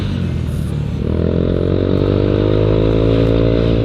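A motorcycle engine running on Shell Advance AX7 10W-40 oil revs up and holds a loud, steady roar, its pitch climbing slightly after the first second.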